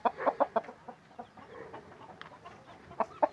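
An Aseel rooster, an Indian breed with hen-like feathering, gives a run of short, close clucks in quick bursts, a cluster at the start and two more near the end, with no voices.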